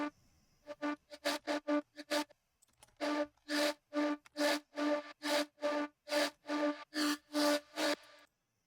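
A distorted bass track topped with a vocal layer plays as a run of evenly spaced, punchy pulses, loud and upfront, with a short pause before the rhythm resumes steadily to the end.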